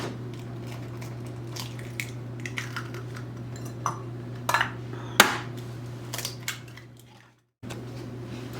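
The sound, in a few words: eggs being cracked into a bowl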